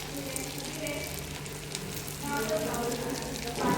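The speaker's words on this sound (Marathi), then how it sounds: "आता ह्याच्यामध्ये तेल टाकायचं थोडं ह्याच्यातलं गरम" Hot oil poured into a sabudana and potato vada mixture sizzles and crackles steadily, with a louder surge toward the end.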